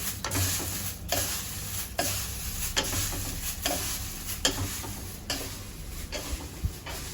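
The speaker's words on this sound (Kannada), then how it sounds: "ಕರಿಬೇವು ಹುರಿತಾ ಇದ್ದೀನಿ ಸ್ವಲ್ಪ ನೋಡಿ." Curry leaves and cumin fry in a pan with a steady hiss of oil. A spoon scrapes and stirs through the sizzle at regular intervals.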